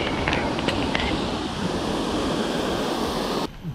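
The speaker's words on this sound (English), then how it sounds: "Waterfall." A waterfall on a mountain bike trail at Broga Hill, loud and close as a steady broadband rush of falling water that cuts off abruptly near the end.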